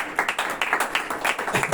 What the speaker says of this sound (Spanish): Hago traslado de estos aplausos a mi amigo Serafín.